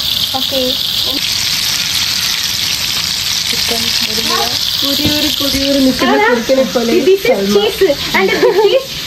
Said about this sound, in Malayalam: നമുക്കിതിൽ ഫ്രഞ്ച് ഫ്രൈസ് പൊരിക്കാം